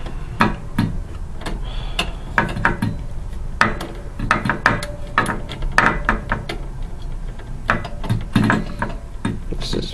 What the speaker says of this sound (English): it takes a minute just to screw in one freaking screw